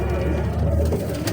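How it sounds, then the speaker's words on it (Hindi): Pigeons coo in a low, continuous murmur at an antique pigeon market stall, with steady soft bird calls throughout a noisy indoor setting. "मगर कबूतर है।"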